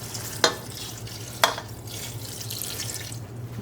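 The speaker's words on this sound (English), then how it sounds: "Now what we're going to do is add our chicken stock and some lemon juice." Chicken stock poured into a pot in a home kitchen, a steady watery splashing and trickle with two sharp clinks, close by and without talk.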